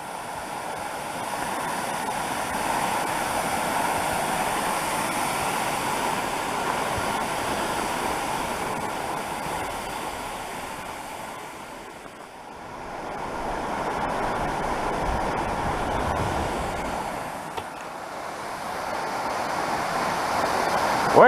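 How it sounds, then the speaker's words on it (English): Steady roaring rush of falling water from waterfalls in the Upper Clearwater backcountry, broad and constant, dipping briefly in the middle before swelling again. "come and see these waterfalls"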